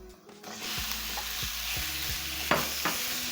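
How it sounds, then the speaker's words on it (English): Meat goes into a pan of softened cabbage and frying crackles steadily, broken by several scraping stir strokes in an even rhythm and a louder clank near the end. "I am going to add in my meat."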